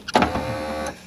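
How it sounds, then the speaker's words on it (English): A brief electric whir of the window lifter motor running inside a Peugeot 205 GTI door, close and moderately loud, starting with a small clunk and running about a second before cutting off. "this is the lifter, and that thing is lifting nothing"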